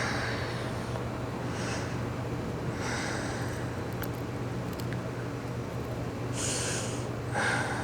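Long, deep yoga breaths during a power vinyasa toning session: slow, audible inhales and exhales through the nose, repeating every couple of seconds, close and soft over a faint steady hum.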